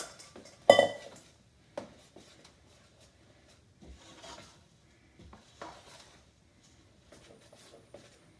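Quick oats being stirred into a hot peanut butter mixture in a pan for no-bake cookies, with intermittent scraping and rubbing of a spatula, one sharp clank near the start and quieter stirring after.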